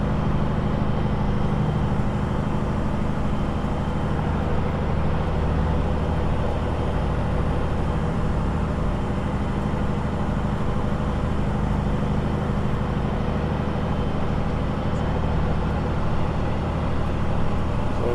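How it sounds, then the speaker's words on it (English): A Peterbilt 379 truck's heavy engine rumbles continuously while driving slowly, a deep, even drone with a steady low throb and no talk over it. "My truck just sounds heavy."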